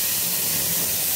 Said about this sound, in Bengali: এবার এর মধ্যে এই সর্ষের পেস্টটা দিয়ে দেবো